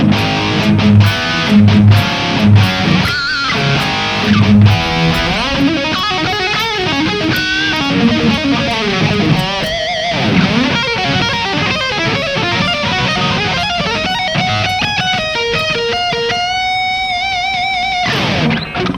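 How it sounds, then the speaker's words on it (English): A heavily distorted electric guitar through a Kemper Stage amp modeler with a gain pedal plays chugging low riffs, then sustained bending lead notes and a held tone, loud and upfront with no voices. "just wanted a little heavier distortion than the previous one"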